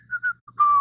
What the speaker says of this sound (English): casually whistling the day away